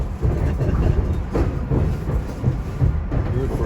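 A SEPTA Regional Rail train runs along the tracks toward Chestnut Hill West, a steady loud rumble and rattle heard from inside the car, with occasional clacks and no talk.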